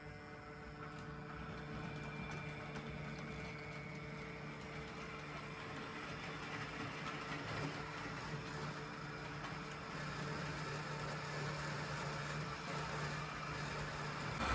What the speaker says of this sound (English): here comes the Class 47 with its lovely rake of box fans